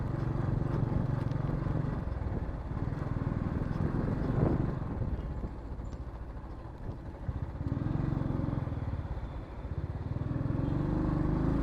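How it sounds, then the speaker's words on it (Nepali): A Bullet motorcycle on a short ride, its engine droning steadily and continuously with wind rumble, rising slightly at times, no voices. "मजा आउँछ यो बाइक कुदाउन पनि।"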